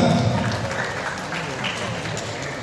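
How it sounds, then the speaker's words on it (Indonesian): Applause from a school audience at an event in Bekasi, Indonesia, a loud, close, continuous patter of clapping with crowd noise and voices mixed in, holding steady for a few seconds. "tepuk tangan"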